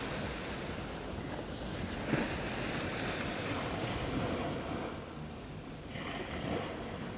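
Ocean waves wash onto a beach in a continuous, moderately distant roar with occasional surges, mixed with wind buffeting the microphone.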